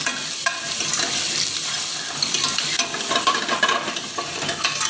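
Chopped shallots and garlic sauté in a pot for cream of mushroom soup, making a continuous close sizzle with irregular clinks and scrapes of stirring throughout, no voices.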